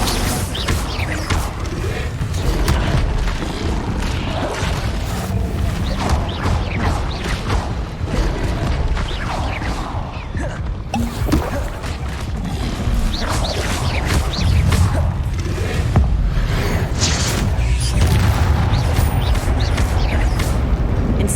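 Spell effects from Hogwarts Legacy on Xbox Series X, with Levioso, Incendio, Expelliarmus and Accio cast in turn: loud, dense whooshes, crackles and booming impacts layered over continuous game ambience and music, with no clear talking.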